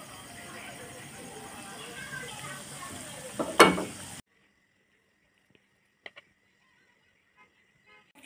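Potato French fries frying in hot oil with a steady close sizzle, broken by a brief louder burst of spattering, then near silence with a few faint knocks.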